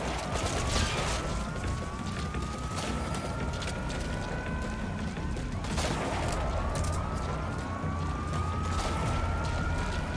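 Sustained gunfire and alarm-like rising tones in Metal Gear Solid V: The Phantom Pain, a dense, continuous crackle of rapid shots with mechanical clatter layered over a repeating upward-sweeping wail, loud and busy throughout.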